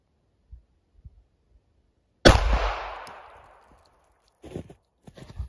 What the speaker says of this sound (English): I'm going to have to shoot fairly precisely because we have some narrow gel blocks to work with today.